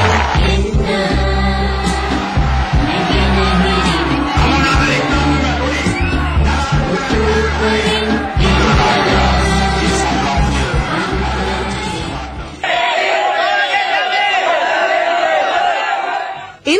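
A huge crowd at a presidential rally in Ratnapura roars, whoops and shouts continuously, loud and dense, then drops to a thinner cheer near the end.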